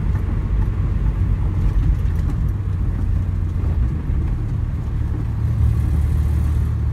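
A Morris Minor 1000 with the 1098cc engine runs steadily nearby, a low continuous mechanical hum with faint whirring and no talk over it.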